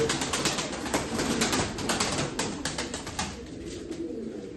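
Pigeons coo and flutter steadily at a bird auction loft, a dense, close chorus of calls and movement throughout with no voices.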